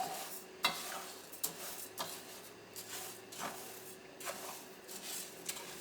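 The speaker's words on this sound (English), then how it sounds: "We just want to roast them, we don't want to burn them." Ingredients for modakas pan-roasting dry while being stirred, with quiet scraping strokes at a slow, irregular rhythm and faint sizzling underneath, close by.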